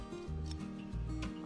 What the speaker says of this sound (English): Trim the seam allowance 1/2 inch from the edge.